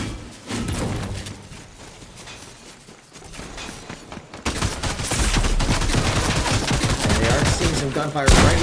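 Gunfire in the video game Fortnite during a college esports match, with rapid bursts of shots and impacts, quieter at first and then growing loud and dense in the second half.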